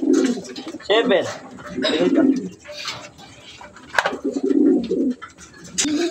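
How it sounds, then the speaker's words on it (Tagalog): Racing pigeons coo at a loft landing board, with soft repeated throaty coos and occasional chirps close by, under frequent talking. "So ayan, may isa na tayong ibon."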